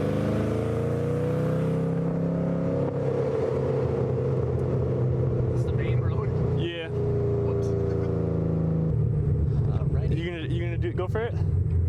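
A 560 whp supercharged manual Ford Mustang drives along with a steady, loud engine drone and rumble from inside the cabin, pitch shifting across gear changes, while occupants talk over it.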